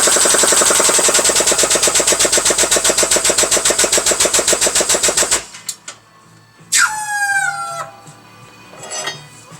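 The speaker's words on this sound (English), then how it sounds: "Alright, let's bend another one, and maybe not quite so far." A steel gusset plate bent in a press or vise: about five seconds of dense, rapid, loud mechanical rattling pulses in a steady rhythm, then abrupt quiet broken by a brief high creaking squeal and a few scattered clanks.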